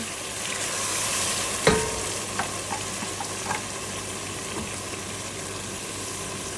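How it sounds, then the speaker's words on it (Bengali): Prawn biryani with tomato paste fries in a pan with a constant close sizzle, broken by one sharp utensil knock and a few lighter clinks as it is stirred. "সব কিছু দিয়ে আমি আবার নাড়াচাড়া করে ডেকে দিয়ে দিব।"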